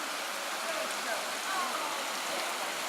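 Burbage Brook flows through Padley Gorge, a steady broadband wash of stream water heard from a little distance, constant and even with no other clear sounds.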